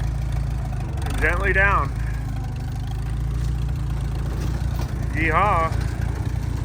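Tractor engine chugging at a steady low idle while driving off a trailer, a constant deep hum under two short bursts of voices.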